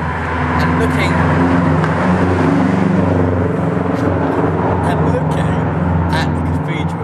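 Loud, steady city traffic in Norwich at night, a continuous rumble of passing cars and engines filling the whole stretch close by.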